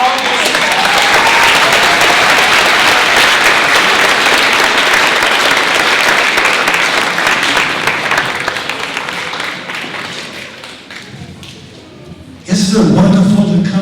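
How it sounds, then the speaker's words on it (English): A community audience applauds loudly as Mr. Lon comes up at a gathering for an elders' wisdom children's song. The dense clapping holds steady, then thins and fades before a voice and other sounds start at the end. "Let's give him a round of applause for all of this."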